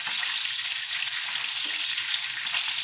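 A filet steak fries in a pan while being basted, giving a loud, even, unbroken sizzle that stays close and steady throughout, with no talking.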